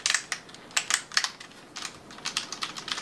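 Typing on a Mountain Everest Max mechanical keyboard produces clear, crisp clicks in uneven bursts and clusters, close and fairly quiet, with no talking.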